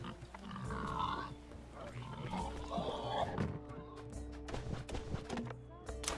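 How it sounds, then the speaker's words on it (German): Pigs in the video game Robin Hood: Sherwood Builders grunt and snort repeatedly among farmyard ambience and hoof clops, a low busy mix under someone speaking. "Oh, wir haben Schweine."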